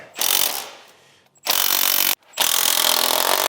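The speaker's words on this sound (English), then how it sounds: "as we're tightening these down, I am using an impact" Impact wrench tightening exhaust bolts on a third-generation Toyota Tacoma during an aftermarket exhaust install, sounding as three loud, steady whirring bursts close by, the first tapering off before two sharp, sustained runs separated by brief silence, with no talking.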